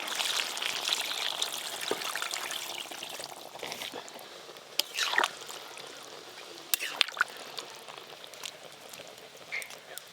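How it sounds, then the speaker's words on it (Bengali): Water is poured into a pan of fried chicken and potatoes, a steady gushing splash at first that thins into trickles and sizzles, with a few clinks of utensils. "এবার জল দিয়ে দেবো।"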